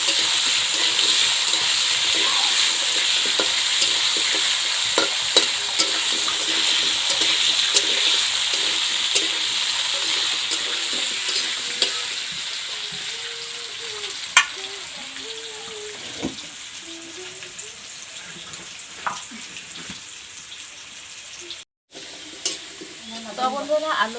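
Potato pieces fry in oil with salt and turmeric for a simple chicken curry, a close, steady sizzle that runs throughout with scattered clicks and scrapes from stirring.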